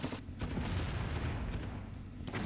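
Enemy artillery in the strategy game Crisis keeps up a dense, rumbling barrage of overlapping blasts with no pauses, steady and fairly loud throughout.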